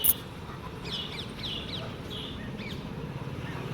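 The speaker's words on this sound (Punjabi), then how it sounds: "ਔਰ ਪੰਛੀ ਵੀ ਉੱਠ ਗਏ ਆ" Several birds call at dawn outside a gurdwara-area morning scene, short chirps and caws scattered through steady low background rumble, moderately distant with no one talking.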